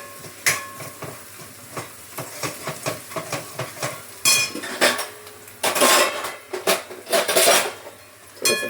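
Onion with turmeric, chilli and Kashmiri chilli powder is sautéed in a little oil, with a spoon repeatedly scraping and knocking against the pan in an irregular rhythm, close and fairly loud, over soft frying.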